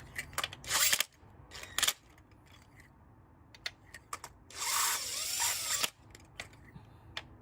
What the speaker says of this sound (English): Drive it in with my impact gun.